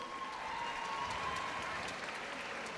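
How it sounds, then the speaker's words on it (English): A concert audience at a city-wide band festival applauds the color guard director, a steady wash of clapping with a faint whistle of crowd noise held at even volume throughout. "Give him a round of applause for all he does."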